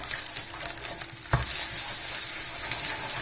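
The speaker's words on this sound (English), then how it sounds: "And then I just like crack them and stir them really quick." Eggs cracked into a hot pan for fried rice sizzle steadily, with one sharp knock just past the middle followed by constant frying hiss.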